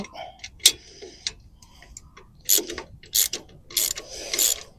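A ratchet tightens a MORyde X-Brace stabilizer bracket on a fifth wheel trailer: rapid clicking bursts in several short, loud, close runs separated by pauses, with faint handling noise.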